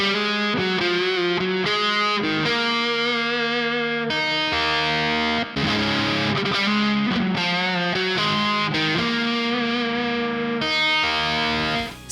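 Distorted electric guitar plays a dense passage through effects and chorus, the picking attack soft and the notes blending with little bite, loud and continuous with no talk.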